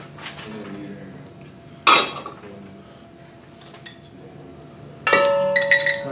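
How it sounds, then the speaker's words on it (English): Clinking of a utensil against a small bowl while flour and baking powder are stirred together, with two sharper ringing knocks amid quieter scraping and no voices. "want to stir that up, make sure it's stirred up"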